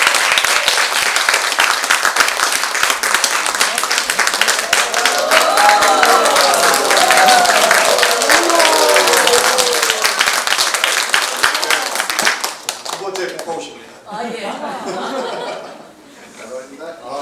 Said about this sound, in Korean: 자, 그러면 2부 한번 큰 박수로 모시도록 하겠습니다.